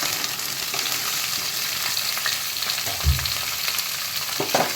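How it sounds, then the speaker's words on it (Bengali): Stems, eggplant and ridge gourd fry in a pan with a steady crackling sizzle. A spoon stirs and scrapes through the vegetables, with a couple of louder knocks near the end. No voices are heard. "ডাঁটাগুলো দিয়ে একটু নাড়াচাড়া করে নেবো, নেড়ে নেবো।"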